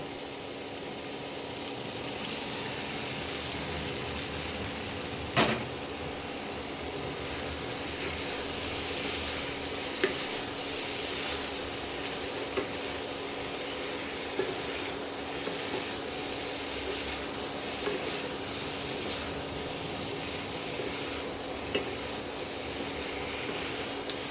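Fried eggs hiss and sizzle in a hot pan with soy sauce and Kashmiri chilli powder for chilli egg, a steady low crackle broken by a few sharp spatula clanks and scrapes as they are stirred.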